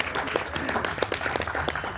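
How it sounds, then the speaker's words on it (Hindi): Audience members at a stage event for Alha folk singing clap to welcome the singer, a brisk patter of applause with a few distinct close claps and some murmuring. "जोरदार तालियों से अभिनंदन करें।"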